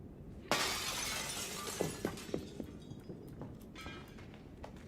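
Glass shatters loudly when a thrown brick strikes it in Guild Wars 2, a sudden bright crash followed by a scatter of tinkling shards and scattered clinks fading over several seconds.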